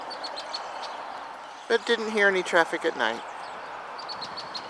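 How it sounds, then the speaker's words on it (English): Faint, repeated high chirps of red-winged blackbirds in the morning outdoor background at an RV park near a highway in Limon, Colorado, heard before and after a person speaks briefly. "Hear all the red-winged blackbirds chirping this morning."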